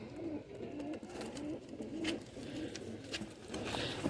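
A Faqeer gull pigeon coos in soft, repeated low phrases at close range, over faint background noise with no talking.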